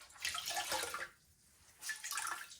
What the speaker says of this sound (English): We're going to flush the water out.